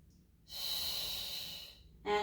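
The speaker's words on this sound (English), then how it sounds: "For 2 reps, we inhale, open, exhale, close." A single long, close breath of air during a Pilates mat exercise, a soft, steady rush lasting over a second, followed by the start of another breath.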